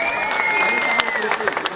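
A live audience bursts into brief, dense applause, close and fairly loud, with a sustained tonal voice or note sliding through the clapping.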